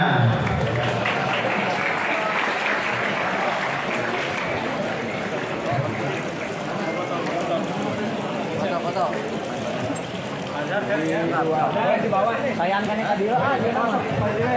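An audience applauds steadily throughout a talk show at an Islamic and creative competition, a dense wash of clapping with crowd chatter and voices mixed in.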